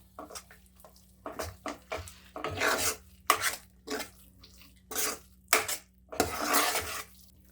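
Raw papaya halwa with nuts being stirred in a pan, heard as repeated scraping and rasping strokes of a spoon against metal in uneven bursts, close and alone with short quiet gaps between.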